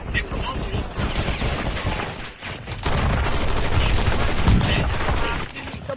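Rapid, sustained gunfire in a Call of Duty video game: dense automatic bursts and overlapping shots rattle continuously, growing heavier partway through, with voices talking over the fighting.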